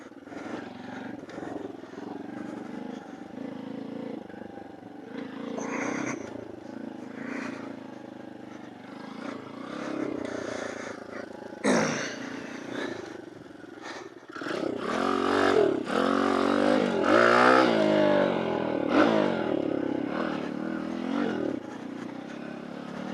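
Tao Tao DBX1 dirt bike ridden over hard-packed ground, its small engine droning and rising in revs, louder and rougher toward the end with wind and clatter mixed in.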